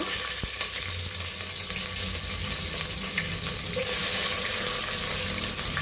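Chopped onions sizzle and fry in a pan for khichdi, a steady, close hiss of oil with faint stirring scrapes and a brief clink, no talking.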